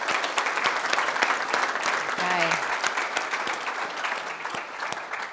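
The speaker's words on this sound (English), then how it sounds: "Everyone, a big clap" An audience at a Brain Injury Awareness Week talk breaks into steady applause, dense clapping throughout, with a brief spoken word partway through.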